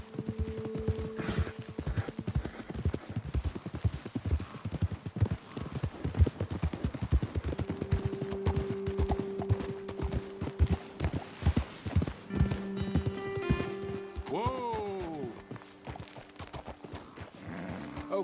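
Horse hooves clip-clopping at a steady, close walking rhythm in Red Dead Redemption 2, with a character's voice talking over it and a brief whinny near the end.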